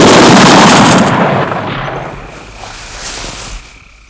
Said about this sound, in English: Firing squad, at the ready. Take aim.